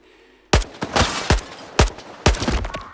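Gunfire in the video game Stalker 2: several sharp, loud shots arrive in an uneven burst, each crack followed by a short decay, with a brief quiet lead-in before the first shot.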